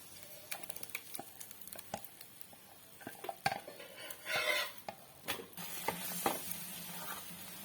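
Metal spoon scraping and clinking in a kadai as thick onion-tomato masala for kadai paneer is stirred, with soft sizzling underneath; close and irregular, no talking.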